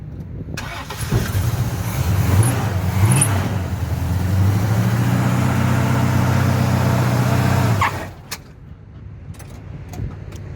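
A 1970 Pontiac LeMans with a 461 engine and a failing torque converter idles with a loud, steady rumble for several seconds, then abruptly cuts off, leaving faint background noise.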